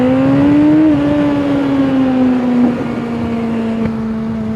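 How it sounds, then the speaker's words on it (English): Kawasaki ZZR1400 (ZX14) motorcycle engine pulling hard under acceleration on an open road, a loud steady drone rising slightly in pitch with a gear change about a second in, wind rush behind it, no talking. "I'm going to do a little acceleration here, just because, again, it's 70 roads, so this is the performance you can get on a ZZR."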